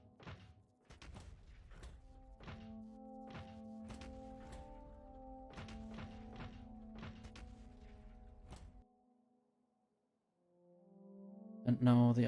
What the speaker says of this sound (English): And now the artillery is doing its job.